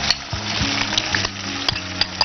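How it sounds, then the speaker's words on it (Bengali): Rice stirred and fried in a pan while cooking creamy mutton korma: a close sizzle with repeated clinks and scrapes of a spoon against the pan in quick, uneven strokes, no talking. "রাইসটাকে হালকা করে নাড়তে থাকো।"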